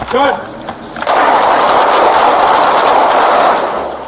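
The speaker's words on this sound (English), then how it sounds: "shots fired!" Gunfire erupts in a police confrontation during a drunk-driver welfare check, a loud, sustained, rapid volley of close shots after a brief shout at the start, continuing for several seconds before tapering.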